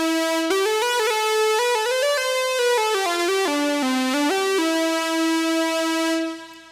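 A buzzy AJH Synth MiniMOD modular synthesizer oscillator voice plays a continuous, shifting line of rapidly stepping pitches that wobble and move before settling on a held note that fades out.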